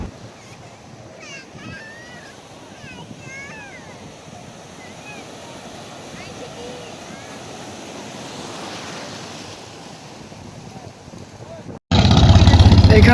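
Sea waves roll onto the beach at Cox's Bazar, a steady broad wash of surf with faint voices in the background, ending in a sudden loud gust of wind against the microphone.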